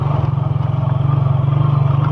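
A motorcycle riding along dirt streets, its engine giving a loud, steady, pulsing low drone that stays close throughout.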